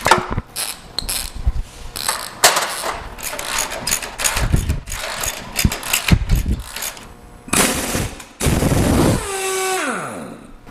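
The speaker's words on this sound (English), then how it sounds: "The impact wrench definitely came in handy. So we've got the final bolt out right here." Impact wrench pulling the sway bar bolts off a Jeep during a build, firing in repeated loud rattling bursts separated by short pauses, then a rising whine as the tool spins down at the end.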